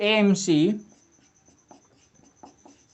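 Writing on a board during a Class 10 maths lesson on triangles: a brief spoken phrase, then faint, scattered scratching strokes close by.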